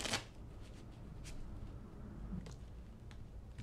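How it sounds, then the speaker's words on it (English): A deck of playing cards is shuffled quietly and close by during a card trick, with a sharp riffle at the start followed by softer flutters and snaps. "Give it another shuffle or two and an extra cut."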